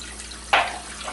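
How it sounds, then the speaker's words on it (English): Water drains down into a sink drain past an upturned cup in a buoyancy demonstration, a brief close gurgling rush that swells suddenly and then fades. "The water's going down between the cup and the drain now."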